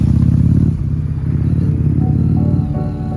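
A Harley Davidson motorcycle engine rides along a mountain road in Ladakh, a loud, close, low throbbing rumble with a brief dip in the middle and steady rhythmic pulsing throughout.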